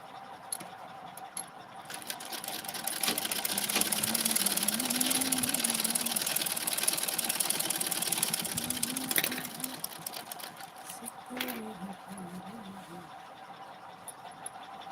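A sewing machine stitches blouses in a steady whirring, rattling run that swells for several seconds then stops and restarts briefly, close by, with people talking over it.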